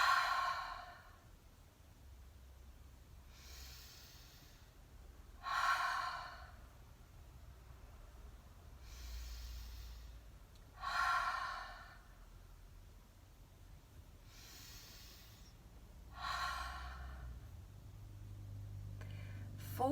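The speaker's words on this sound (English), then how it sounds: "we're going to take 4 deep breaths together. So you're going to go in through your nose and out through your mouth" Slow deep breaths, in through the nose and out through the mouth, come as four or five soft rushing exhalations spaced several seconds apart, close and quiet over faint room noise.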